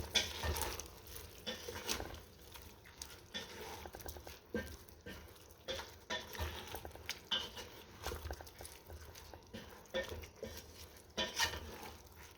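A spoon stirs pork soup in a metal pot with quiet scraping and clinking against the sides, irregular taps and swishes repeating for about twelve seconds, with a faint sizzle underneath.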